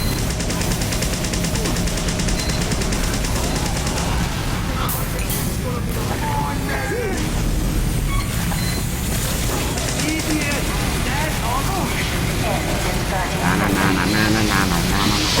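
Video game turrets pour out dense, continuous rattling gunfire amid a loud, noisy battle mix, with a voice talking over the din.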